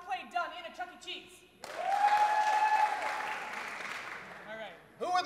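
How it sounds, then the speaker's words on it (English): Audience clapping to vote at an improv theatre show, a burst of applause rising sharply and sustained for about three seconds before tapering off, with a voice speaking before and after it. "clap now if you would like to see our play done in a Chuck E. Cheese"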